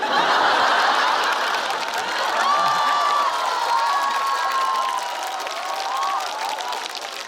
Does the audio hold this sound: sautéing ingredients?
no